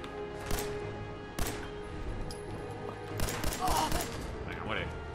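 Gunfire in Fallout 4 while fighting raiders at the Corvega plant: several sharp, loud shots spaced through the stretch, with ringing tails and a distant crackle of return fire under a steady game hum.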